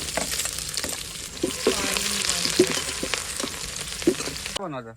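Onion and garlic frying in oil over a wood-fired chulha, a continuous close sizzle broken by scraping stirs and a few sharp crackles before it cuts off abruptly near the end.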